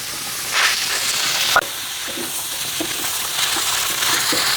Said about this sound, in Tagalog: Lagyan na natin yung sibuyas at kamatis.